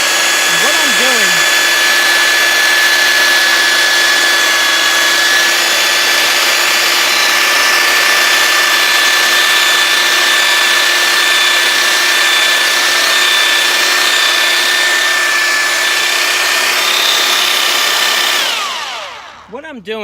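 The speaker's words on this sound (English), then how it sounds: "So I have my mixer here, my power mixer." A power mixer whirs loudly and continuously for nearly twenty seconds as it blends plaster powder, ready-mix compound and water in a bucket, then winds down and stops at the end.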